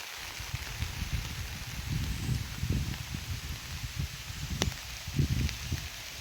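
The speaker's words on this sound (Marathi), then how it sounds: "बारीक बारीक पाऊस सुरू झाला आणि तो आता मोठा वाढतच चालला आहे." Monsoon rain falls beside a river in Konkan during fishing, a steady close hiss of drops with scattered soft low thuds and taps throughout.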